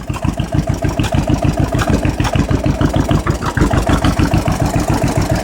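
A tractor engine idles close by with a loud, rapid, even chugging pulse that holds steady throughout.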